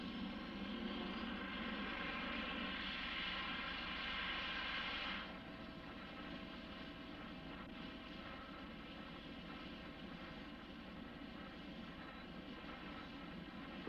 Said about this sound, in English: the 2 water jet pumps of the Denison are driven by a General Electric T-58 gas turbine